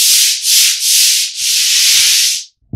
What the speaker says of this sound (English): You really don't have to scrub that hard.